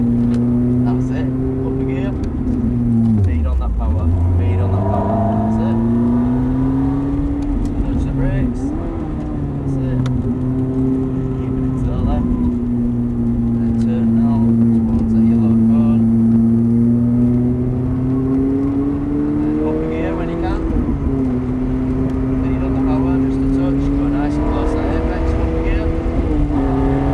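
A car on the Three Sisters racing circuit revs steadily through a lap, the engine note rising and dipping as power comes off and the brakes are nudged into a corner, loud and continuous while a driving instructor talks over it.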